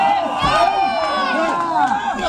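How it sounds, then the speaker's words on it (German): A wrestling crowd cheers and shouts loudly and continuously, with voices rising and falling throughout a short burst. "Das Publikum hilft nicht zu dir, Mirko."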